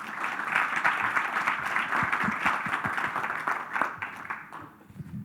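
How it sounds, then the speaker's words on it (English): Audience at a business summit applauds a panel on stage, a steady wash of many hands clapping that holds for about five seconds before thinning out and fading at the end. "if you would give them a round of applause"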